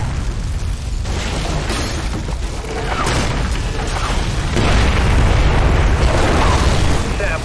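Missile explosions in the Splinter Cell Blacklist video game, a loud continuous rumble of booms and blasts that swells and stays dense throughout, with a voice talking over the din.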